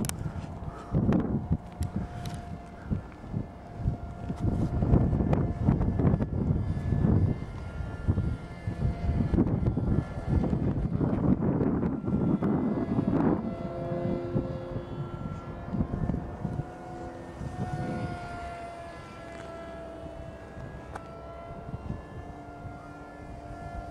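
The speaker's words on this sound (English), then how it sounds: "I think that airplane's just right that flies so well." An airplane, apparently a small model plane, flies with a steady droning engine tone that holds loud and close through the middle and then thins as it pulls away, with brief breaks and some talk in the background.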